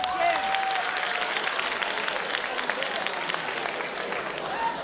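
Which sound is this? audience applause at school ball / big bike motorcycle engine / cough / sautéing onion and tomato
audience applause at school ball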